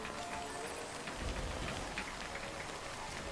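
Rain in Death Stranding falls as a steady, dense patter on the ground, soft but continuous, with a faint low thump partway through.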